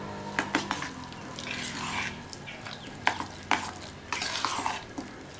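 A spoon stirs a thick rice flour and semolina dosa batter with curry leaves, coriander and salt in a bowl, making wet, sloppy scrapes and clicks against the rim. The stirring comes in uneven bursts and stays close, quiet and wordless.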